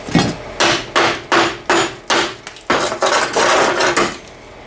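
A hammer drives a chisel to knock parts off a 1977 GMC Sierra truck during a rear lift job: about nine sharp metallic blows in an uneven rhythm, close and loud.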